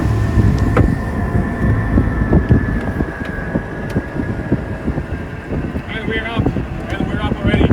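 Steady wind rushing past the microphone aboard an ENVGO NV1 electric hydrofoil boat while it foils above the water, a constant broadband roar with brief chirping tones near the end.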